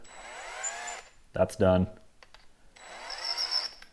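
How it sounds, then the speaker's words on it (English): Power drill spinning a 5.56 military brass case while it is chamfered and deburred, heard as two bursts of whirring separated by a brief spoken remark. "while I have this chucked in the drill, this is the easiest point to just chamfer and deburr"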